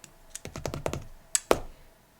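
Pen strokes on paper at close range while sinking-fund savings challenges are noted, a quick run of short scratchy marks followed by two sharper taps, no talking.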